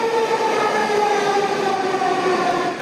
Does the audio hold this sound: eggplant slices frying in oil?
no